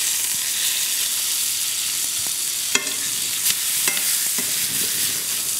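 Meat searing in a hot pan, a steady bright sizzle with a few soft knocks and scrapes as the piece is turned on each side; no voices.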